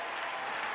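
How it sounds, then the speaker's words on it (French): An audience applauds in a dense, steady burst of clapping during a talent show opening, all in under a second. "est-ce qu'on peut applaudir"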